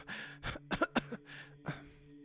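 Several short harsh coughs in a quick burst, fairly close, followed by a couple more spaced coughs against a faint steady hum.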